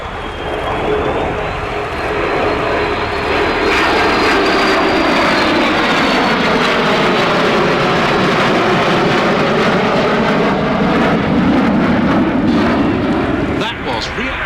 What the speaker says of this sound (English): Air Force F-16AM.